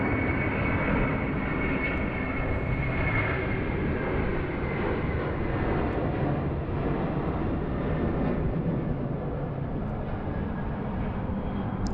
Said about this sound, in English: Qantas A330 200 off to Perth. She's going to rotate right in front of the tower, you watch.